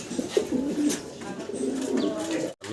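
A pair of grey bar Lahori pigeons coo close by, giving several soft, throaty, rolling calls in quick succession with faint rustling in between.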